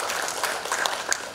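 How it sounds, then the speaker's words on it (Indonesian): A crowd at the grand opening of an international ferry terminal in Bengkong claps in a brief, even patter of many hands that fills the space for just over a second. "Tepuk tangan juga Haris Pratamura,"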